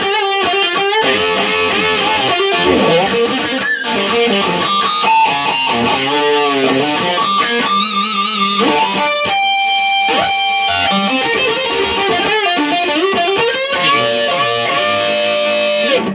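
A 1988 Heritage H-162 Super Strat electric guitar played through its humbucker pickup, loud and distorted, with sustained notes, bends and quick runs continuing throughout without talk.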